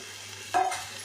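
Curry leaves, mint and coriander leaves dropped and stirred into a frying chicken biryani base, giving a short burst of sizzle and scraping over a steady background hum.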